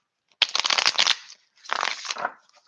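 A deck of cards is shuffled up close in two quick, crisp riffling bursts with a brief pause between them, quiet and with no talking.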